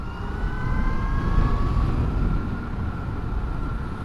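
Surron Storm Bee electric motorbike cruising steadily at about 30 mph, a continuous broadband rush of wind and tyre roar with a faint rising motor whine, loud and close throughout with no talk.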